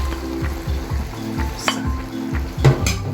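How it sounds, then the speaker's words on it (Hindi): Bitter gourd already fried with onion and chilli goes into a hot pan for a minced-meat karela dish, giving a steady close sizzle with scraping stir strokes and light utensil clinks, no voices. "अब इसमें हम डालेंगे जो हम लोगों ने करेले को फ्राई किया था ओनियन के साथ, चिल्ली के साथ, इसमें ऐड करेंगे।"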